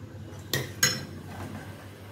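Broken gobindobhog rice for mango firni being stirred in a pot, two sharp metallic clinks of a spoon against the pot over a quiet background, close, with no talking.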